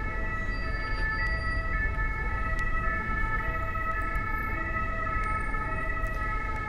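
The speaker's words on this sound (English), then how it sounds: "Now the siren you hear is interesting" An emergency siren wails steadily through Paris street traffic near the Rue de Rivoli, a continuous tone over a dense hum of passing vehicles, heard at moderate distance.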